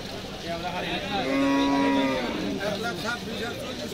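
A cow moos loudly and close by at a crowded cattle market before the Eid sacrifice, one long drawn-out low call that rises and falls over a busy backdrop of crowd chatter.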